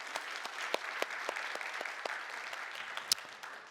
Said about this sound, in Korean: 하나님께 감사의 박수 드리도록 하겠습니다